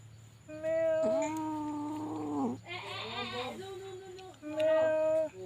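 A cat meows after giving birth to a litter of four kittens, giving three loud, drawn-out, close-up calls separated by short pauses.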